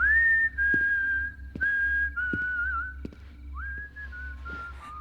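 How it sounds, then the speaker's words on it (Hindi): The Creeper from the 2001 film Jeepers Creepers whistles a slow, eerie, wavering tune in long held notes, with soft taps and a low background hum underneath. "इसकी सीटी जरा आप लोग भी सुनो।"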